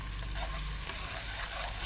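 Onions sizzle steadily in a pan for dal tadka, a quiet, even crackle of hot oil with no voices.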